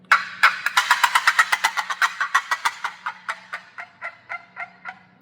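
A hunter's turkey call imitates a wild turkey's fly down cackle, a rapid run of about twenty sharp, loud notes that starts quick and dense, then slows and spaces out as it trails off, heard alone against a low steady hum.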